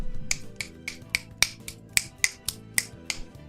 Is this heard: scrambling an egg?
no